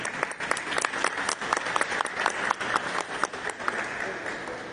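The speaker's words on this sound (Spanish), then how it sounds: "Fuerte las palmas." Audience applause at a ceremony presenting a traditional art and crafts collection, with dense steady clapping from a crowd lasting throughout, fairly loud and continuous with small surges.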